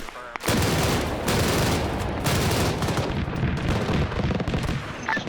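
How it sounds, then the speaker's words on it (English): Anti-aircraft guns in Arma open up in a sustained, dense barrage of rapid automatic fire, loud and continuous after a brief lead-in, with overlapping bursts and booming reports filling the scene. "Have the AA guns start firing blindly"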